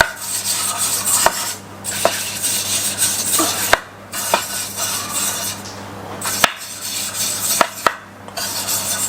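A pastry brush rubbing oil around the inside of a metal Yorkshire pudding tin: soft continuous scraping and swishing with several sharp clinks of metal, close and moderately loud, with no talking.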